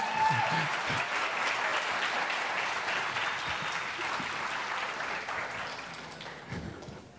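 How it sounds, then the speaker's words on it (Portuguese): Audience applause at an evening event, full and continuous at first, then gradually thinning and fading, with a few louder bumps near the end. "uma salva de palmas para eles, por favor."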